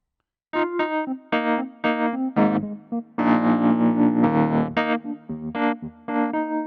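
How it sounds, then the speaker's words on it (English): Wurlitzer-style electric piano chords on a Korg Grandstage X with a warbling tremolo, played in short rhythmic stabs with gaps between phrases, close and clear. "within your electric pianos, of course, you've got whirlies as well"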